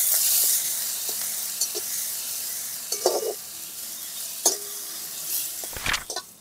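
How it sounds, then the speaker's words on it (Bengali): Chopped onion fries in a pan with a soft, steady sizzle while a spatula stirs it, giving scattered scrapes and clinks over the quiet hiss. "পেঁয়াজ কুচিটা হালকা ভাজা ভাজা হয়ে গেছে"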